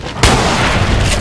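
Loud gunfire in Resident Evil 4 (modded): a sudden booming burst of shots that rings out after a brief quiet moment.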